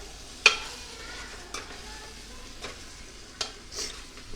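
Chicken or mutton curry stirred in a pan, a soft steady sizzle under four sharp scraping clicks of the spoon against the pan, spaced about a second apart, with no voices.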